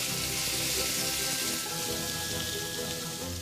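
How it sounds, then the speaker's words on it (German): A lightly seasoned fillet fries in a pan, giving a steady, dense sizzle that stays loud and close from start to end, with no talking over it. "Das Filet kommt leicht gewürzt in die Pfanne."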